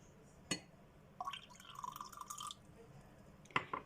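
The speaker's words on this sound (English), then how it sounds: "Now I will mix the pure water with pigment of the cabbage." Pure water is mixed with red cabbage pigment: a short, faint splash of liquid pouring sits between two sharp little taps, heard close in a quiet room.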